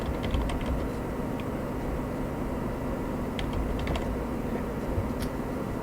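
Keys tapped on a computer keyboard while entering a website URL, scattered light clicks in short bursts over a constant background hiss, faint and close.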